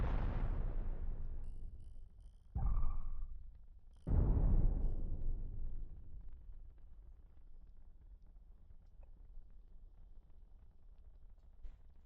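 Ship weapons fire and explosions in the space combat game Cosmoteer make heavy booming blasts, two sharp loud bursts with long rumbling decays, then fainter low rumble with a few small pops.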